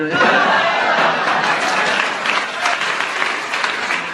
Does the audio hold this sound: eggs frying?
no